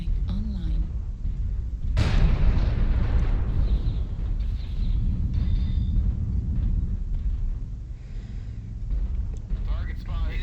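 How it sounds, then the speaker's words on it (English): Airstrike explosions in the video game MechWarrior Online: a sudden loud blast sets off a long, heavy rumbling roar that slowly fades, while voices talk over the battle. "Airstrike online."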